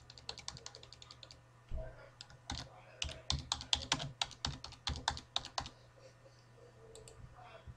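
Someone types on a computer keyboard while filling in a Microsoft Word 2010 form, giving quick close key clicks in bursts with short pauses and a faint steady hum underneath.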